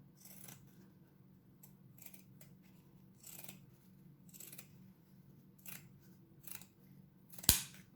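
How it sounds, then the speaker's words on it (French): Pinking shears snip through fabric in a series of quiet, separate cuts spaced irregularly, each a brief crisp crunch, ending with one sharper, louder snap; no one speaks. "je prends les ciseaux cranteurs"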